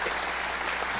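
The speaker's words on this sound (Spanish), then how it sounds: "Un caluroso aplauso nuevamente para nuestros" Audience applause for the panelists at a civil service integrity panel during a congress, a steady wash of clapping held at an even level throughout the short burst.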